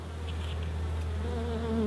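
A steady, close drone of honey bees buzzing at an opened beehive, continuous and fairly loud, with a low hum under the higher whine of wings.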